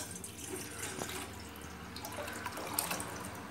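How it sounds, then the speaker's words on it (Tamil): About a liter of water is poured into a cooking pot set on a stove, a faint, continuous splashing and trickle with soft drip-like accents and no voices over it. "1 லிட்டர் தண்ணியை எடுத்து ஊற்றிடணும்."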